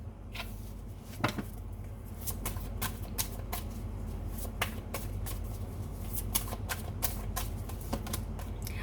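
Cards drawn from an oracle deck during a reading, heard as a steady stream of soft, close papery flicks and snaps over a low background hum, with no talking.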